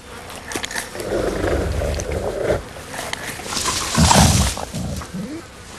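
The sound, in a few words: wolves squabbling over food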